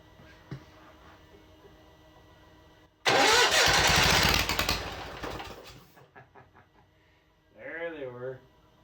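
A Case trencher engine turns over and fires with a loud burst, running roughly for a few seconds before dying down, between stretches of talk.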